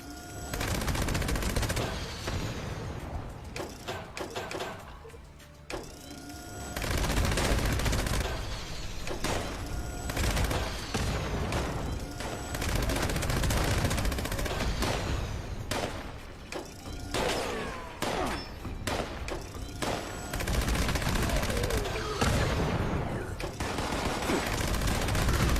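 Rapid automatic gunfire from a weapon in Fallout 76 fires in long dense bursts, loud and close, with short gaps and reload mechanisms between them, running almost continuously throughout.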